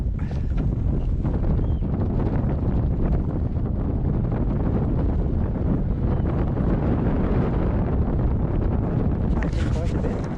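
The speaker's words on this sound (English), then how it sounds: "Very windy." Strong wind at Glasson Dock buffets the microphone during an electric bike ride, making a continuous, loud, rumbling roar with gusty flutter throughout and no clear break.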